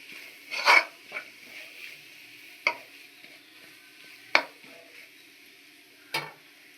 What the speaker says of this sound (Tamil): மசாலாலாம் இப்போ எண்ணெயிலே நல்லா வதக்கிடலாம்.